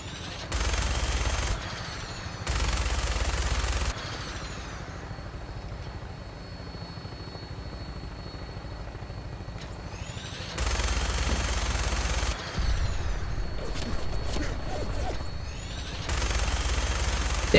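A Vertibird helicopter in Fallout 4 drones steadily with a constant rotor and engine hum, broken by several loud bursts of mounted gunfire in separate blocks lasting a second or two each.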